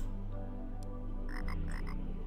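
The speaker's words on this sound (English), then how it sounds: "Hey, there's a frog." A frog croaks in the fantasy RPG Tower of Time, a short burst of several quick rasping croaks over a steady low ambient drone, clear and fairly close.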